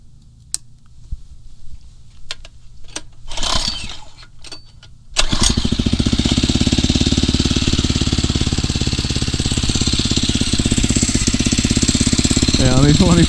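A Phatmoto Rover 79cc four-stroke motorized bicycle engine catches after some quiet handling sounds and a voice, then runs loud and steady at close range, a buzzy, constant drone through to the end.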